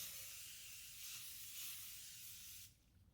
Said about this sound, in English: I'm going to spray some cleaner